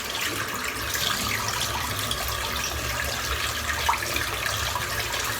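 Steady broadband hiss of tap water running into a sink as a man wets his head before a razor shave, continuous and fairly close with no speech.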